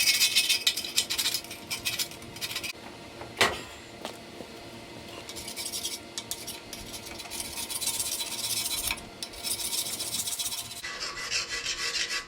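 A Mortke Super Scraper grinds coked carbon off an engine, a harsh close scraping rasp in repeated strokes with a few sharp knocks, no talking.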